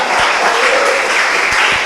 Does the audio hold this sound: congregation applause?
yes